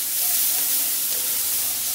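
Mixed vegetables and tomato with salt frying in a pan for a vegetable egg omelette, a steady, even hiss and sizzle that stays close and constant throughout, with no talking.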